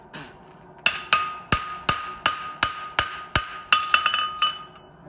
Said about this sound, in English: Remember, hammer it at the angle you're boxing off.